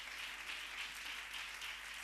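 Church congregation clapping during a sermon, a soft, fairly distant patter of many hands with gentle swells, steady across a couple of seconds with no voices on top.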